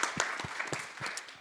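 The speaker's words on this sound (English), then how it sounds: "So big round of applause for Jeroen." An audience at an investment breakfast event claps in a brief, scattered burst of applause, moderately loud and without voices over it.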